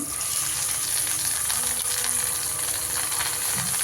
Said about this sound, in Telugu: ఇప్పుడు ఆయిల్ వేడైంది మనం చేప ముక్క వేసేసుకుందాం